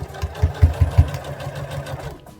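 A sewing machine backstitches a dress seam, giving a low rapid mechanical hum with a few short, louder bursts of stitching near the start before it settles into a steady run.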